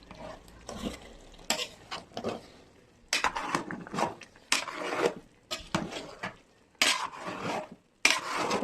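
A spoon gently stirring biryani in a pot on a low flame, soft scraping and clinking strokes arriving in irregular bursts with short quiet gaps, close up and fairly faint.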